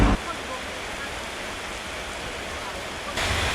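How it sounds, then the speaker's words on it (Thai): Dense, steady hiss of heavy afternoon rain pouring down during the Phi Ta Khon festival in Thailand, continuous throughout, with a brief louder surge at the very start and end. "ตอนนี้ฝนตกแรงมากครับท่านผู้ชม"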